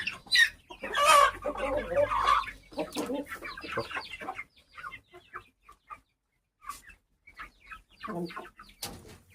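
Chickens and guinea fowl cluck busily at feeding time on a Yercaud farm, close and loud at first, then thinning into scattered calls with a voice speaking among them.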